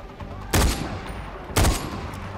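Two loud, sharp sniper rifle shots in Far Cry 4, about a second apart, each with a short booming tail over a low game background.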